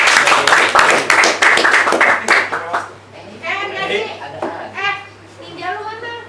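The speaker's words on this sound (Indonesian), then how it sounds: "Tepuk tangan dong." An audience claps in a loud burst of applause lasting a few seconds, then it fades out as voices, including a child's, begin talking.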